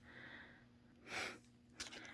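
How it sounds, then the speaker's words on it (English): A person with a runny nose blows it in a quiet room: two short, breathy bursts, the first longer and the second sharper, both faint, with no talking. "I'm going to blow my nose."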